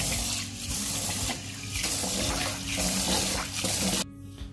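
Glutinous rice being rinsed under running water, a steady close splashing and gushing stream with some sloshing, which cuts off abruptly near the end.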